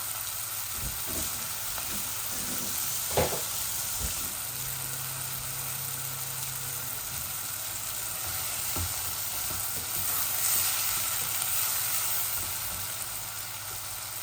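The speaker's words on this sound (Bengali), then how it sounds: "ও চিংড়ি মাছগুলাও দিলাই এর সাথে, একলগে বুনা বুনা হয়ে যাক" Shrimp hits a pan already cooking sweet pumpkin and dried fish, giving a steady, close frying sizzle broken by occasional clatters of stirring.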